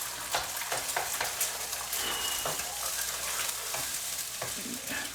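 Two eggs scrambled in a hot, oiled pan for egg fried rice give off a dense, steady sizzle with repeated scraping stir strokes, close and continuous.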